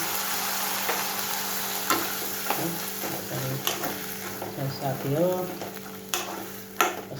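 Chickpea masala with tomato and a little water frying and being stirred in a pan, a steady sizzle broken by scraping stirs, with a brief spoken phrase.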